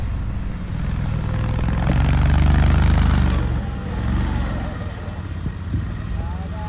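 An Argo recovery vehicle driving off-road, a steady low engine drone that swells louder midway then eases back, heard close and continuous while a person talks over it.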